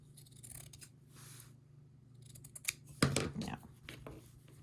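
Close, crisp snips of scissors trimming sewn fabric for a small bag, a couple of sharp cuts near the end over a low steady hum, with faint talking earlier.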